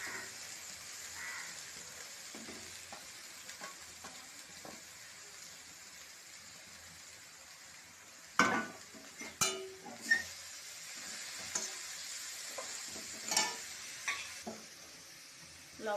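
Kalai greens drop into a pan of oil with dried chillies and sizzle quietly, then get stirred with a few sharp clinks and scrapes of a utensil against the pan.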